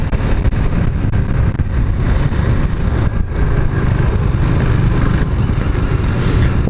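KTM Duke 390 single-cylinder naked motorcycle being ridden, a loud continuous engine drone with low rumble and wind noise, steady throughout with slight surges in throttle.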